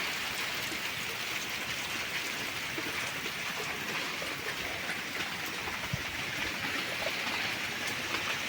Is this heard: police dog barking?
no